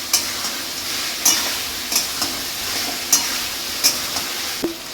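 Ground cumin goes into a hot oiled pan for a Bengali festive thali, sizzling steadily while a utensil taps and scrapes the pan in several sharp strikes.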